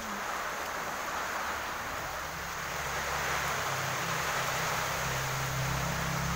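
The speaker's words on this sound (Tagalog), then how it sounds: "Lakas ng ulan, hangin." Heavy rain falls with strong wind in a rainy coastal setting, forming a constant hissing wash of noise with a low rumble underneath throughout.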